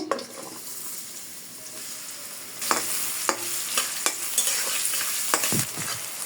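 Half a cup of onions hits hot oil in a heated wok, bursting into a loud, steady sizzle with sharp stirring scrapes and clinks from about the midpoint onward.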